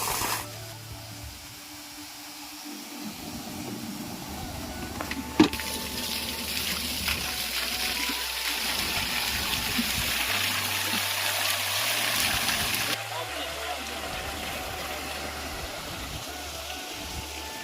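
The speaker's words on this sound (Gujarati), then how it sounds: "તો મિત્રો આપણી મોટર ચાલુ થઈ ગઈ છે, તમે જોઈ શકો છો અહીંયા, અને પાણી બધું સીધું જાય છે હવે કેવડાની બરોબર" Water gushes steadily from a farm irrigation pump motor into a field channel, a continuous close rushing wash with a low mechanical drone beneath and one sharp knock partway through.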